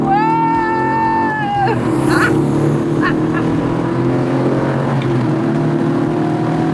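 Custom-built V8 engine in an MGB sports car, revving up as it accelerates hard, a steady loud roar with rising tones at first, then a dense throbbing drone that carries on to the end.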